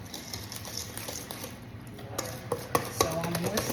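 Chocolate pastry cream being whisked in a bowl, quiet rapid scraping and clicking strokes that grow more distinct toward the end, faint and close.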